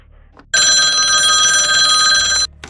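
An old-fashioned telephone bell rings loudly and continuously for about two seconds in a radio drama, a harsh metallic jangle that starts and stops abruptly, with faint room sound before and after.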